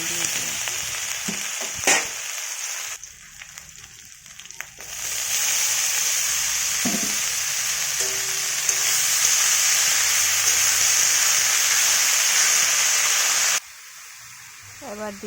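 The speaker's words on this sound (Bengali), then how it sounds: "কড়াইতে শুকনো লঙ্কা আর আদা ফোড়নে দিয়ে দিলাম" Dried red chillies and ginger hit hot oil in a kadai for a Bengali tempering, giving a loud, sustained sizzle and crackle that swells and holds steady before cutting off.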